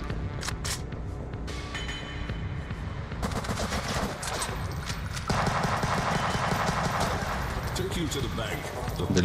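Rapid bursts of gunfire and machine-gun rattle in the game Huntdown, loud and continuous, with a voice talking over the shooting.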